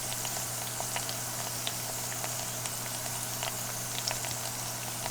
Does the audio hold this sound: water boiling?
yes